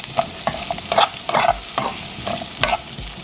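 Carrots sauté in olive oil in a pan, with a close crackling sizzle broken by a spatula's repeated stirring scrapes and taps.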